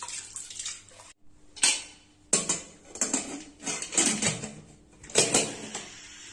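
Lentils (toor dal) being rinsed by hand in water in a steel vessel for coconut rasam, with near sloshing and swishing bursts, light clinks against the pot, and brief quiet pauses between strokes.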